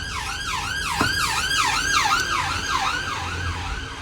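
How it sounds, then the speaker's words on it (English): A wailing siren sweeps up and down repeatedly, loud and close, as an emergency vehicle passes, with a low engine rumble beneath. "Ambulance."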